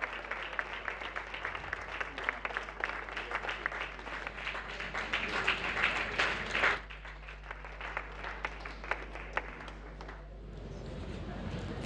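Audience applause after a speech at an International Women's Day event, a dense steady clapping crowd for about seven seconds that then thins and softens with a few scattered claps.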